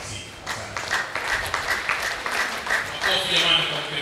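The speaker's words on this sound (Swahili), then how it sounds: "Makofi jamani kwa mkemia mkuu wa serikali" Crowd applause at a live gathering in Tanzania, a dense wash of clapping lasting a few seconds with voices talking and calling over it.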